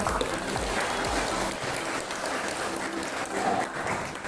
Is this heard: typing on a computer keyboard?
no